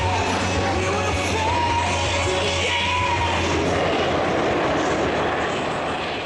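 Blue Angels jets roaring past in a barrel roll break at the 2012 Virginia Beach Oceanfront air show, a loud steady engine rumble and roar sweeping overhead across the whole stretch, with faint crowd yells mixed in.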